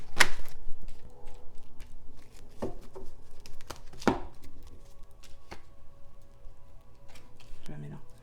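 Tarot cards being shuffled and cut by hand at close range: irregular riffling and sharp card slaps in bursts, with faint voice sounds in the background.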